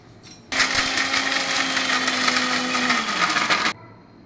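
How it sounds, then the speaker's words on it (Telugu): A mixer grinder blends onion, coconut, cinnamon, cloves and garlic into a fine masala for a fish curry, roaring loudly and steadily for about three seconds before cutting off, with a whine that drops in pitch near the end. "ఆనియన్, కొబ్బరి, చెక్క లవంగాలు, తెల్లగడ్డలు అన్నింటినీ మెత్తగా గ్రైండ్ చేసుకోవాలండి"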